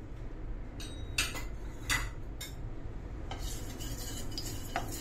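Quiet spoon clinks and scrapes in a pan as grated coconut and a spoonful of ghee are added to roasted poppy seeds, with a few sharper metallic taps over a low background hum.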